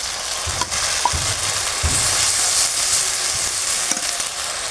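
Bay leaves, cumin, garlic and green chili paste frying in hot oil, a steady loud sizzle throughout with occasional stirring clatters from a spoon against the pan.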